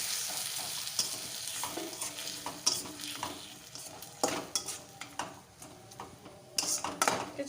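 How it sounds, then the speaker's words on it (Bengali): Spice masala for egg curry stir-fried in a pan: a spoon scrapes and clanks against metal in irregular strokes over a continuous low sizzle, close and without voices. "ভালো করে মশলাটা কষিয়ে নেব।"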